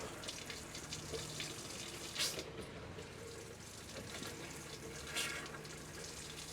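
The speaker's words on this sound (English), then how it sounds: "at our faucet, we're going to watch for that pink antifreeze to come out" A Jayco Jay Flight 160LKW RV faucet runs while pink antifreeze flows out during winterization, a faint, steady water hiss with small gurgling splashes.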